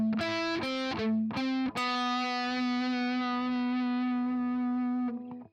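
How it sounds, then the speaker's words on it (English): Heavily distorted electric guitar playing the guitar 2 riff from a song: several choppy palm-muted chugs, then a single note ringing out for over three seconds before cutting off. Loud and close, with no voices. "So here's what guitar 2 sounds like in its entirety."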